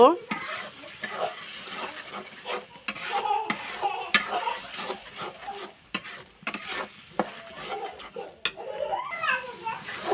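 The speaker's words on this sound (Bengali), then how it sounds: "শুকনো মরিচের গুঁড়া দুটা তেজপাতা সবগুলো মশলা এখন আমি ভালোভাবে মিক্স করে নেব" Dried chili powder, coriander powder and bay leaves stirred in hot oil in a pan for a beef curry: crackling sizzle broken by frequent clattering spatula strokes against the pan, close, with a voice speaking intermittently over it.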